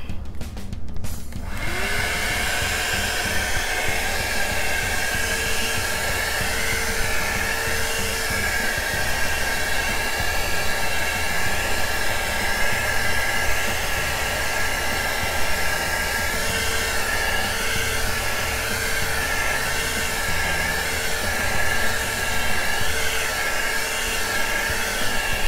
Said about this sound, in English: now I'm gonna try some heat to see if I can get some cells.